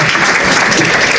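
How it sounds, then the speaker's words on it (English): Audience applause for a speaker being introduced at a Somali diaspora youth conference, a dense, steady wash of many hands clapping close and loud through the whole short stretch. "All right, clap for her."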